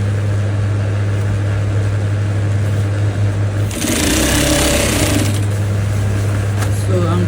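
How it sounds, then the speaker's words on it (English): A sewing machine stitches the side seam of a fabric pencil skirt, a steady close mechanical whirr that swells louder midway, with a constant low hum running underneath. "So I'm sewing with the allowance that I have left."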